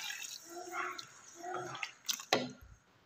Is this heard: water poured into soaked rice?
yes